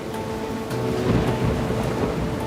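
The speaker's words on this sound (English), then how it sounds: "A massive storm rips through Austin," Heavy rain from a severe thunderstorm over Austin, Texas pours in a dense, steady wash, with low rumbling swelling slightly partway through and no voices.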